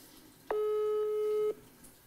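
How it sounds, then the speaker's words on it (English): A European telephone tone heard on an outgoing call: one steady electronic beep lasting about a second, alone and fairly clear, with near-silence before and after. "It's that European dial tone."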